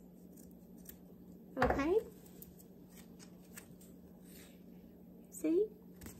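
Scissors cut paper at an angle during junk journal crafting, giving two short, quiet snipping sounds a few seconds apart, with a brief spoken word in between.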